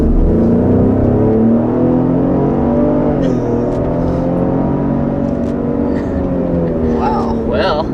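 A Ford Explorer ST three-row SUV with a big engine, its engine note rising steadily under acceleration, close and loud, with brief chirpy sounds near the end and some voices over it.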